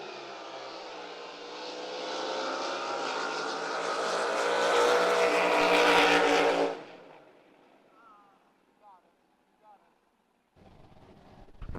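Drag race cars blast down the lanes at San Angelo, a loud engine roar building for several seconds before cutting off abruptly. Quieter crowd and announcer sounds follow.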